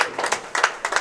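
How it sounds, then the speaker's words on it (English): Brief scattered applause for a young bowler at a bowling tournament, a few bursts of clapping from a small crowd over about a second, moderately loud and without talk. "Good applause there for the youngster."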